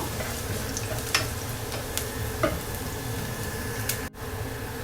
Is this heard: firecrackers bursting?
no